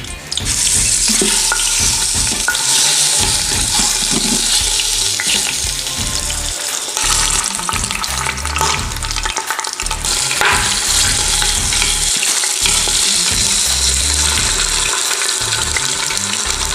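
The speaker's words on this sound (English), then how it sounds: "That's how you know the oil's hot enough. Right there. Take the lamb shank." Lamb shank searing in hot oil in a pan beside carrots, celery and onions, a loud steady sizzle and crackle of frying that continues unbroken, close up with no talking.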